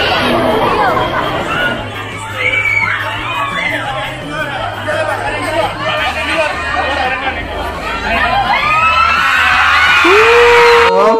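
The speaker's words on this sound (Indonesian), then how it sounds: "Wow, gila teriakannya." Fans screaming and cheering at a crowded meet-and-greet event in Cileungsi, a dense, loud wash of overlapping shrieks, whoops and chatter that continues throughout, with voices talking nearby amid the din.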